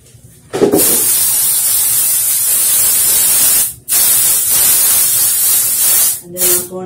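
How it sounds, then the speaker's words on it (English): Cleaning spray misted around a bathroom, heard as a loud, steady hiss that runs for several seconds at a time, broken by two brief pauses. "spray my bathroom"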